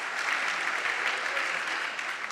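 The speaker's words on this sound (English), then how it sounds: "can we give a round of applause to our interpreter?" An audience at a live music and poetry event applauds the interpreter, a dense, even wash of many hands clapping at moderate volume, steady from start to finish.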